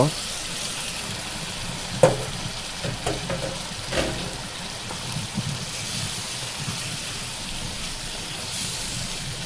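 Raw green bananas being stirred and fried in a pan for hilsa fish curry: a continuous close sizzle with a few clattering knocks of the spoon early on, then a steady hiss, with no talking.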